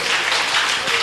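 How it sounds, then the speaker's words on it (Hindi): Audience applause at a Bait Bazi poetry contest in Aurangabad, a steady wash of clapping from a crowd over about a second, fairly loud and continuous with no distinct voices. "ताली बजाइए।"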